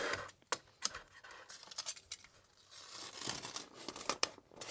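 A piece of foam is cut out for rotor blades, heard as close, quiet tearing and crinkling rips in irregular short strokes, with no talk.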